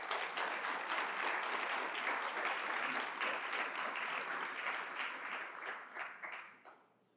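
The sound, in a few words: church congregation applause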